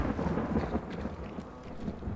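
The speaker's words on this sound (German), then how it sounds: "Den Blitz nicht, aber den Donner gehört." Low rumbling thunder in the video game Hunt: Showdown, a steady dull roll running the whole time at moderate loudness, with a soft, distant quality and no voices.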